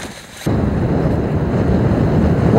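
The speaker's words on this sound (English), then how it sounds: "It's cold and windy outside" Cold wind gusts over a frozen lake during ice fishing, a broad steady roar that starts abruptly and stays loud and close, buffeting the microphone.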